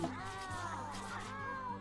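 Cats meow in a colony-building video game while a fox attacks them, several overlapping cries rising and falling over a steady game music backdrop at moderate level.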